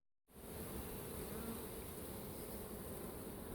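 Honey bees swarm around an opened hive during queen rearing, a dense, loud, close buzzing that swells in after a brief silence and holds steady throughout.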